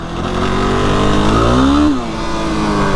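A Yamaha YFZ 450R ATV engine revs hard at high RPM, loud and close, climbing in pitch before easing off slightly and holding a steady snarl.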